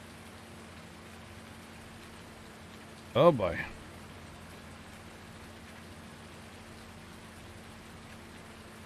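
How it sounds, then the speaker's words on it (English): Steady rain falling in Farming Simulator 19, a soft, even hiss of drops on surfaces that lasts the whole time, with someone briefly speaking over it. "Yeah, comes the rain."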